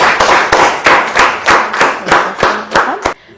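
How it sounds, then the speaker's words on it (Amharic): A group of people claps loudly in unison, about nine sharp, evenly spaced claps in a steady rhythm before stopping abruptly. "ኧረ እንደው አጨብጭቡልኝ አንዴ እስቲ በመድኃኒዓለም።"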